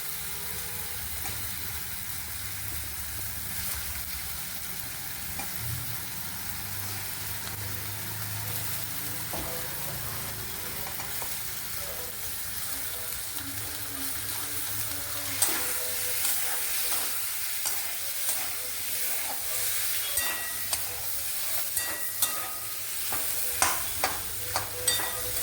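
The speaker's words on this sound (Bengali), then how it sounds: "এবার আলুগুলো যেগুলো সেদ্ধ হয়ে গেছিলো ওগুলোকে আমি ম্যাশ করে দিয়ে দিচ্ছি।" Boiled potatoes are mashed in a frying pan for aloo dum, with a steady sizzle and hiss under scraping, stirring noises that turn into sharper taps and knocks toward the end.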